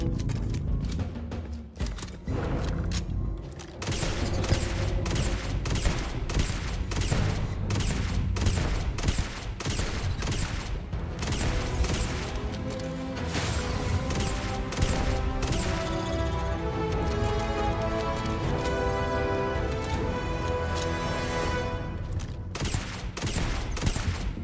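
Sustained heavy gunfire from a Starfield space-combat game, a dense stream of rapid shots and bursts rattling on without pause at steady loudness.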